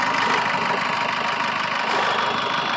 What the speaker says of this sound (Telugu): డీజిల్ ఇంజన్ అండి ఇది.